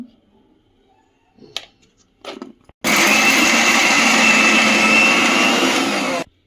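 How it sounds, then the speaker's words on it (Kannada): A kitchen mixer grinder whirs loudly for about three and a half seconds while it grinds masala for a spicy mutton kheema ball curry. A few soft clinks and knocks come first, then the motor stops abruptly. "ಮಿಕ್ಸಿ ಮಾಡಿ ಇದನ್ನ ಎತ್ತಿಟ್ಕೊಂಡಿದ್ದೀವಿ ಸಪ್ರೇಟು"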